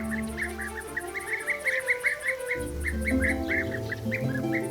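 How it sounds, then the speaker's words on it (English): European bee-eaters give repeated rolling, trilling calls in a steady series, clear and fairly near over a sustained musical background. "The European bee-eater"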